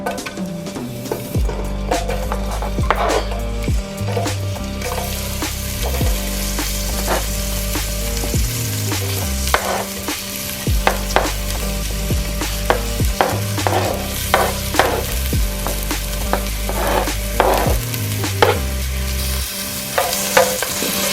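Garlic and onion sautéing in a pan for collard greens, sizzling loudly and continuously up close while a utensil stirs and scrapes in frequent rhythmic strokes, with no voices.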